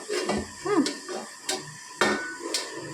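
A brass plate is handled while being greased with mustard oil for making sesame sweets, giving several sharp metallic clinks and taps in a loose, irregular rhythm close up, with no talk.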